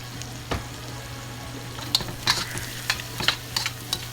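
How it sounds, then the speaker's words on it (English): Fried rice with soy sauce being stirred in a pan, a soft steady sizzle broken by several sharp scraping and clinking strokes of the utensil, close and fairly quiet. "So you want to add those in and start stirring that up."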